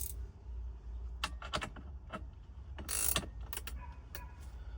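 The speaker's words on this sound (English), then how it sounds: "followed by your locking nuts. Take your ratchet and wrench," Ratchet and wrench tightening locking nuts on a TV mount during a no-drill install in a 2025 Kenworth W900 truck cab, giving brief metallic clicks and clunks in scattered bursts, close and moderately loud, with no talking.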